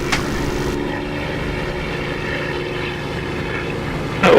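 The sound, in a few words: Spitfire aircraft engine approaching in DCS flight simulator video game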